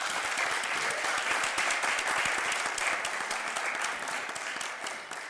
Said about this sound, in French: on peut applaudir pour moi, c'est mon anniversaire